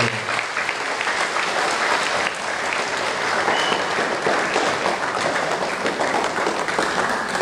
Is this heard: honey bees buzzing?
no